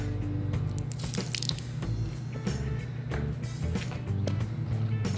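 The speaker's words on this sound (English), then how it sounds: "And let's pour some water on there." Water poured over a burning steel-toe work shoe, giving a continuous loud sizzle and hiss with bursts of crackling and popping for several seconds.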